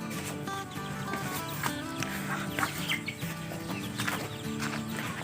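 Laying hens cluck and squawk steadily in a busy coop, several birds calling over one another at close range with a constant low background hum.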